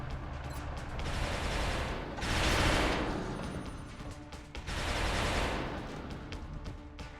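Gunfire in XCOM: Enemy Unknown, two heavy bursts of shots swelling and fading a few seconds apart over a continuous game soundscape, with no speech.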